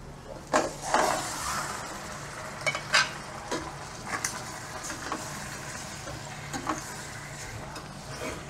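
Washed pork sautés in a pan after the aromatics are sautéed, giving a steady close sizzle under repeated scraping strokes of a stirring utensil, with no talk.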